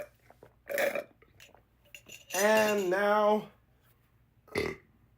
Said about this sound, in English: Could have used that big old burp as a sound effect.